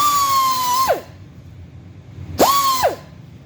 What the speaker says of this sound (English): on this edge here, I use an MX wheel